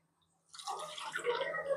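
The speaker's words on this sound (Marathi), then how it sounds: "त्यामुळे मी इथे दूध टाकत आहे" Milk is poured into a simmering curry gravy for a methi matar malai dish, a soft, brief liquid splash and trickle that begins abruptly and stays faint and close.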